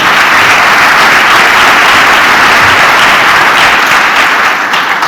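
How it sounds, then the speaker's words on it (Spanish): Loud, dense welcoming applause from the audience for panel members at a round-table session at the Ateneo de Madrid, continuous full-room clapping that holds steady throughout before tapering slightly at the end. "como bienvenida, un aplauso por la mañana"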